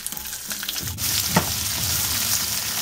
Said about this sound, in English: we're just going to saute this